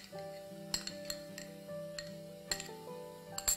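Fried garlic tipped into a pan of chicken fried rice, with sharp metallic clinks of a utensil against the pan and bowl at irregular moments, close and fairly quiet.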